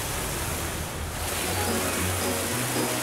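Water rushes and splashes steadily in a cartoon dinosaur bath scene, forming a dense, continuous wash of sound with no pauses.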